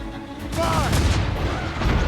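Ship cannons fire in a naval battle in Assassin's Creed Rogue: a dense, loud barrage of overlapping booms with shouting voices mixed in.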